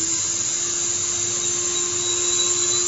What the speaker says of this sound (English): this is a contour router. It cuts on the edge of the board, so it's going to punch through the board just like a drill bit